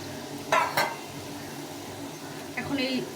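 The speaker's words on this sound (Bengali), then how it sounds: "এখন আমি এখানে সর্ষে আর পোস্ত বেটে নিয়েছি এটা একটু জলে গুলে দিয়ে দিই" Mustard and poppy seed paste is mixed with water and poured into a pan for an okra recipe, with two sharp utensil clinks against cookware followed by a short liquid splash and light sizzle nearby.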